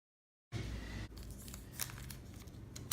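Magic tape tearing from a roll and being pressed onto paper: an abrupt close rasp followed by crinkly, crackling handling noise, fairly quiet with no talk.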